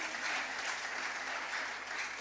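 A church congregation applauding during a sermon, dense sustained clapping from many hands filling the whole moment, steady and fairly loud.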